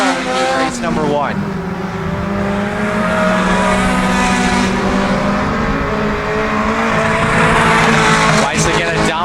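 Mini stock race cars lapping a dirt oval at Genesee, engines roaring and revving continuously with rising and falling pitch as cars pass, loud and close, with an announcer's voice over the top.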